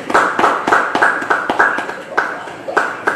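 A church congregation applauding, a dense run of hand claps with a rhythmic, slightly uneven pulse, loud and close, with a voice faintly mixed in.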